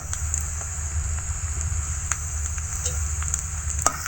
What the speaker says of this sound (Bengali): এভাবে হালকা নেড়ে চেড়ে ভেজে নেব পেঁয়াজ কুচিগুলোকে